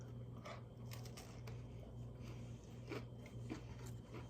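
Someone bites into the crunchy end piece of Irish soda bread topped with honey, producing a few soft, close crunches and chewing sounds over a constant low hum.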